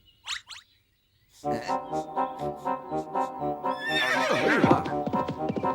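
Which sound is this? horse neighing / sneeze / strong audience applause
horse neighing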